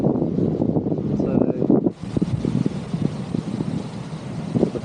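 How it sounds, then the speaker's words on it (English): Gusty wind buffets the microphone at beach bungalow accommodation beside a pool, a loud rough roar surging and dropping throughout, with a brief lull before it picks up again. "A bit windy, so it might be hard to hear me."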